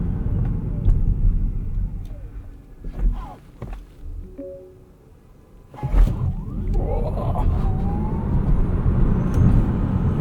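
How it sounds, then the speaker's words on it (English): A 2025 Lucid Air Touring electric sedan launching from a standstill in launch control mode, a low road rumble and thunk swelling into steady acceleration noise heard from inside the cabin, with a brief rising electric whine. "Alright, we have to do a launch control start."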